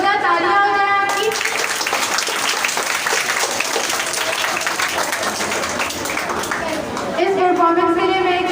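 Audience applause after a patriotic stage performance, a loud steady wash of clapping hands for several seconds with a voice or tone briefly audible at the start and end.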